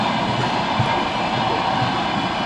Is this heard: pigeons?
no